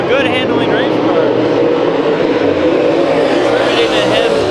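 A race car accelerates at Bakersfield Speedway during a heat race, a loud continuous engine roar with rising whine, while an announcer talks over it.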